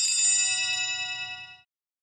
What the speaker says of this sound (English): The server closest to the altar rings the bells in the following manner.